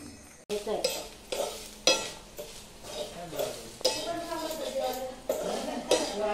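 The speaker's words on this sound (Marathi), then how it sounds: "त्या खोबरं वगैरे भाजत आहेत आमटी वगैरेसाठी" Grated coconut being dry-roasted in a pan for amti, with a spatula scraping and clinking against the metal in quick irregular strokes over a soft sizzle, alongside clattering dishes.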